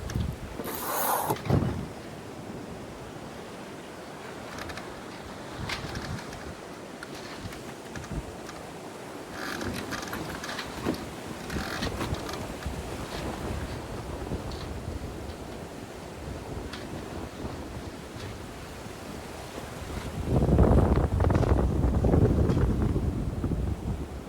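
A sailboat jibes at sea, with steady wind buffeting the microphone and the hiss of waves, a brief gusty burst near the start and a louder rush of water near the end.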